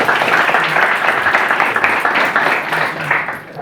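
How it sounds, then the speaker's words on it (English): An audience at a talk on building remote teams claps to introduce a speaker, a dense, even burst of applause that tapers slightly near the end. "And maybe just a round of applause just to introduce Mayur."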